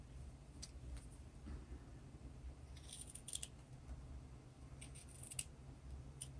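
Scissors snip through puppet-building material close up, a few quiet, sharp cuts over a soft room hum.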